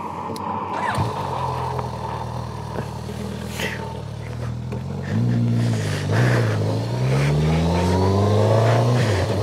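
A road-test motorcycle's engine climbs through the gears while riding, a loud close drone rising in pitch with each pull, then easing between shifts as wind rushes past.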